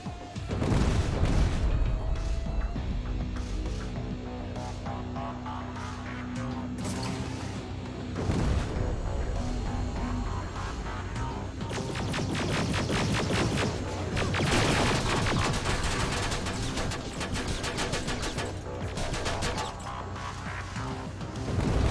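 Gunfire and mechanical crashes from a battle in the Terminator: Resistance video game, a loud, dense mix of bursts, booms and metallic impacts running continuously over a game score, with sharper clusters of rapid shots toward the end.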